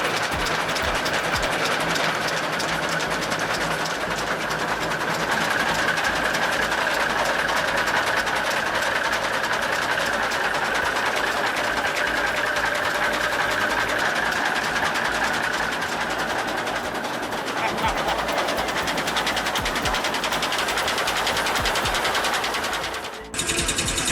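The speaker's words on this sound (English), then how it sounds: "The Altman and Taylor 360 does not ease into motion. It declares its presence with each ignition." An antique Altman and Taylor 360 engine runs loud and close, a dense continuous mechanical chatter with rapid firing pulses throughout, ending in a brief sharp knock.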